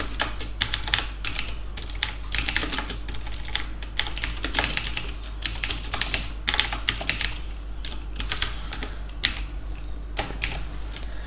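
Steady typing on a computer keyboard while setting up a C++ database program, with quick irregular key clicks close by and no talking.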